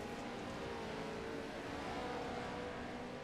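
A rally truck engine in the Dirt Rally game drones at high, steady revs, a loud continuous roar with no talk over it.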